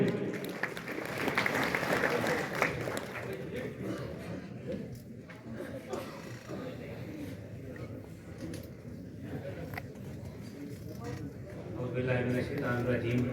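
At a community event in Karor Lal Esan, a crowd claps as a speaker is welcomed to the stage, with loud applause at first that fades into chatter and voices before rising again near the end.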